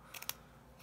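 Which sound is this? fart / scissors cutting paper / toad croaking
scissors cutting paper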